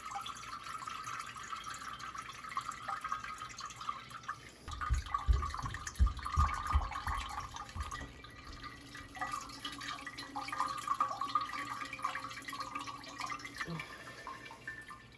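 Walnut ink pulp straining through overloaded cheesecloth, with drips and splashes falling into liquid nearby, growing busier and louder midway and then continuing more steadily.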